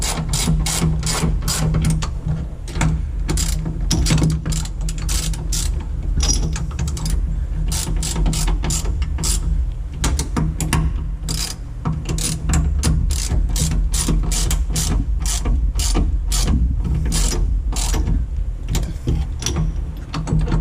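A ratchet wrench clicks steadily while bolts are tightened in a car shop during a Nissan 300ZX build, the rapid pawl ticks running close and loud for the whole stretch with brief pauses between strokes.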